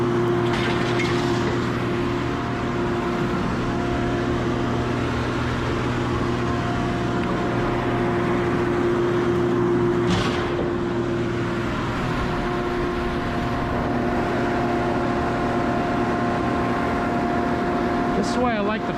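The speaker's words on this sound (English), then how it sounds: "Hard to talk when the engine is so loud." A loud vehicle engine runs steadily at a scrapyard, giving an unbroken, droning hum with a faint knock or clunk partway through.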